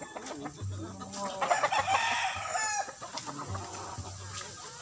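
Green-legged limbuyugin game roosters at a gamefowl farm crow and cluck nearby, several overlapping calls rising and falling, with low clucking and other farmyard sounds around them.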